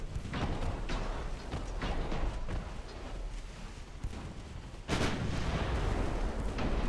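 Naval gunfire in Ultimate Admiral Dreadnoughts, a dense run of booming cannon blasts and rumbling impacts, with a sharp loud hit near the end over continuous battle noise.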